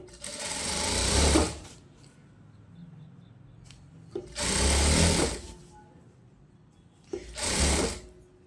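A sewing machine stitches a child's palazzo in three loud bursts of rapid whirring, each a second or so long, separated by quiet pauses with faint handling sounds.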